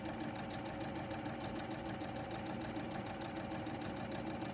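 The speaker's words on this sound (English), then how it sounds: "So now we're just gonna sew them, keeping our raw edges together" A sewing machine stitching quilt pieces together for nine-patch blocks: a fast, even, mechanical whirring and knocking that runs continuously at close range, with no talk.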